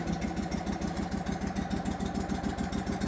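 A Hurricane blower engine idles steadily after a cold start, with a fast, even mechanical chug that stays close and constant throughout.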